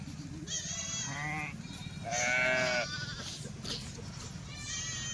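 Several Kathiyawadi sheep from Gujarat bleat in turn, wavering harmonic cries, one louder and longer in the middle, over a low continuous background rumble.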